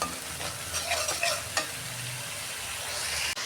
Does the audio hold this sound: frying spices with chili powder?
yes